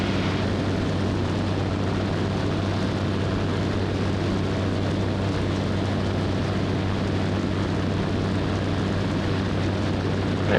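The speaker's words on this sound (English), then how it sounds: "It's a loud airplane no matter what" A Super Petrel amphibious light aircraft drones steadily in flight, its engine a loud, constant roar with a low hum and broadband rush heard from inside the cockpit throughout.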